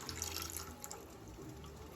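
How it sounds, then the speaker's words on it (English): Water is poured into an empty tomato sauce can to rinse out the residue, a faint steady trickle running for about two seconds. "And then a full can of water of tomato sauce as well."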